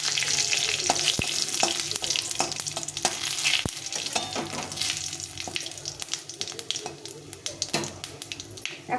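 Dry chilli, bay leaf, cardamom, cinnamon and cumin hit a little hot oil and sizzle loudly and steadily up close, with scattered crackles and a few stirring scrapes.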